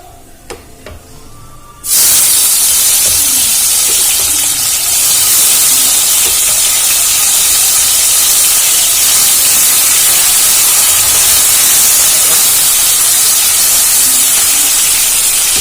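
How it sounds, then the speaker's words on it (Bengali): After a brief quiet moment, a sudden loud hiss of steam and sizzling erupts and continues steadily as chopped tomatoes hit a very hot pan of fried spices. "নাড়াচাড়া করে ভাজা হয়ে গেছে আমি দিয়ে দেব টমেটো কুচি"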